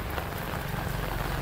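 Rain pours steadily as a dense, even hiss outdoors near a busy road, with no voices.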